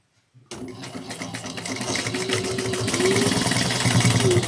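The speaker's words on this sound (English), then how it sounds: "And we're going to sew at 3/8 of an inch." A sewing machine starts abruptly after brief silence and stitches fabric at a 3/8-inch seam for a cross-body bag, its close, rapid mechanical whirr steadily rising in loudness.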